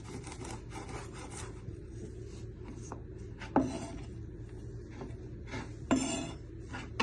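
A knife chopping ginger on a board while a chicken balti curry is being prepared: close, quiet scraping and rubbing strokes with a couple of sharper knocks against the board, no talk.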